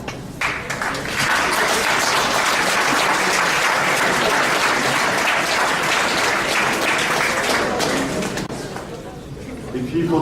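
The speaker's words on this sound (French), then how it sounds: "Vous pouvez les applaudir." Full, steady applause from a crowd at a champagne tasting evening, honoring wine school servers, loud and continuous for about ten seconds with a slight dip near the end.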